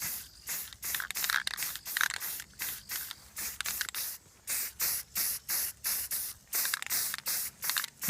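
An airsoft PEQ box being spray painted with an aerosol can, heard as a long run of quick, even hissing bursts separated by short pauses, fairly close and steady in loudness.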